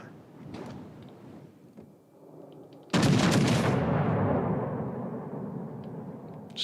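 A naval turret salvo in the warship battle game World of Warships hits as a sudden heavy boom and trails off into a long, rumbling decay. Quieter background sound comes before it.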